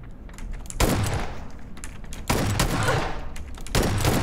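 Saiga shotgun firing in a video game: three loud, close blasts roughly a second and a half apart, each with a rapid rattling burst and echoing tail, alone without talk.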